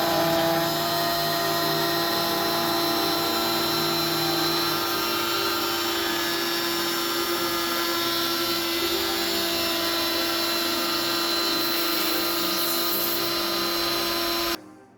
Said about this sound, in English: thick aluminum on a hobby CNC is a different animal